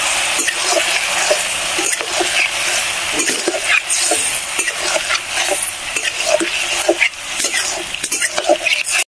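Vegetables with onion, green chili and cumin paste sautéed and stirred in a pan, a steady loud sizzle broken by repeated spatula scrapes and knocks throughout, with no voices.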